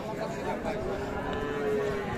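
A cow with her calf at a livestock market in Ambari lows in a single long, drawn-out moo, heard fairly near over a dull background of market noise.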